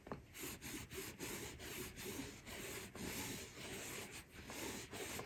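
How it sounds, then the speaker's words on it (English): Conditioner being rubbed by hand into a Lady Dior leather handbag, a soft, continuous scuffing and rubbing in repeated strokes, close and quiet with no talking. "I'm going to rub that conditioner down here"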